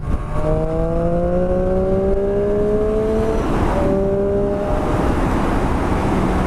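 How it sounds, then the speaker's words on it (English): A motorcycle engine revs up smoothly with rising pitch, drops briefly, then climbs again, loud and close. "What I can say though is the engine is so free revving."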